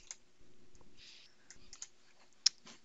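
Faint computer mouse clicks on a quiet desk, several light scattered clicks with one slightly sharper click near the end and no talking.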